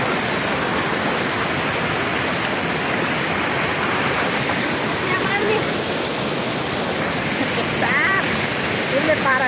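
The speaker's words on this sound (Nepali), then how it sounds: "आज हाम्रो खोला तरिरहेको छौँ" River water rushing loudly around people wading across a stream, a dense, steady roar filling the whole span with no break, close by.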